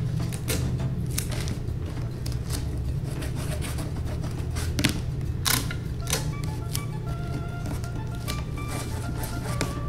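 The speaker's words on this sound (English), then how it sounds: "And we'll tape it down." Tape is pulled and pressed down to hold a folded cardboard box flap, heard as close, crisp crackles and sharp ripping ticks scattered over steady low room noise.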